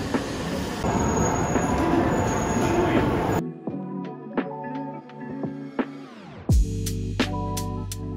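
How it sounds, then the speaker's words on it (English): Train running on rails, a dense rolling clatter that gives way to sharp wheel squeals and clicks, then a steady hum as the cars pass close by. "This is my train."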